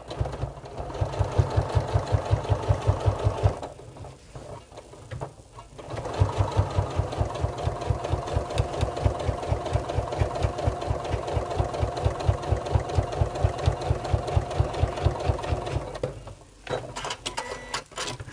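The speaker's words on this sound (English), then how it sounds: "you're going to sew along this edge here on the actual foam piece" A sewing machine with a long stitch length runs along the edge of a foam piece, its needle thumping in a steady fast rhythm, close and loud, with a couple of brief stops before it starts again.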